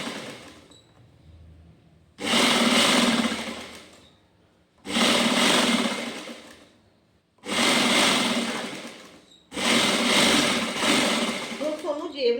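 A sewing machine stitching a coat set, running in four separate whirring bursts of two to three seconds each, with quiet pauses between them.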